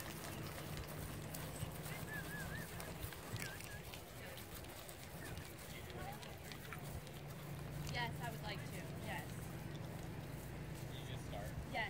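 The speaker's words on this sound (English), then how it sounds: "She's a happy horse." A horse walks with clip-clop hooves, irregular hoof steps in an outdoor setting amid rustling background noise, with people talking now and then.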